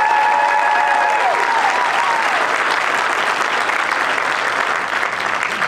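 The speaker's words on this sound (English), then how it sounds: "Let's have a round of applause for all the performers that donated their time and talent to this great show." A crowd applauds performers who donated their time to a charity holiday show, steady dense clapping filling the room for several seconds, with brief tonal feedback or music lines fading at the start.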